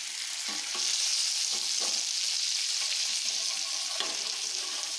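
Capsicum coated in egg batter fries over low flame in a pan, giving a steady bright sizzle with a few soft scrapes and taps as the pieces are flipped, close and continuous with no talking.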